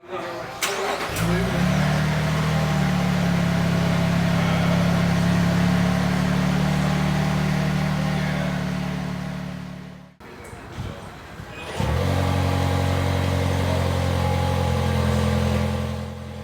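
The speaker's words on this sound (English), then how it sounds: "I was very curious how the twin turbo V6 sound compared to the hybrid turbo 4-cylinder" Two engines start one after the other, a Lexus GX twin-turbo V6 and a Toyota Land Cruiser hybrid turbo four-cylinder: a crank and catch into a steady idle, a brief pause, then a second start settling into a deeper idle.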